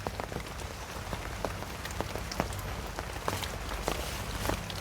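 Steady rain falls on hard surfaces outdoors, with close, sharp drips and patters over a constant wash of rainfall and no voices.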